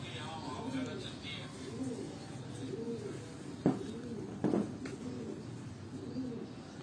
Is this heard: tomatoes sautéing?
no